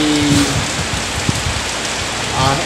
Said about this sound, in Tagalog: So ito, ulan-ulan lang naman.